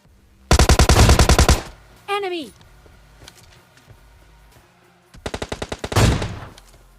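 Rapid bursts of in-game gunfire from an AWM sniper rifle in a battle-royale shooter, a loud volley early and another late, with a voice speaking between the bursts.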